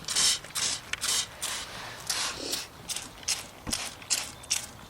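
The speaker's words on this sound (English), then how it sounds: "And just spraying it." Plain water is pumped from a hand spray bottle onto a wild hedgehog house, giving a rapid series of short hissing spritzes with small clicks of the trigger, close by and moderately loud, with no talking.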